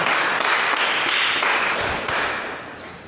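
A church congregation claps for Jesus after a prayer, a loud burst of many hands that stays dense and even for a few seconds, then eases off slightly at the end.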